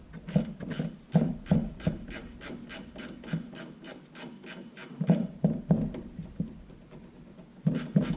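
Socket ratchet loosening the upper shock bolt on a 2001 Chevy Silverado, rapid clicking pawl bursts in close, repeated runs with short pauses between strokes.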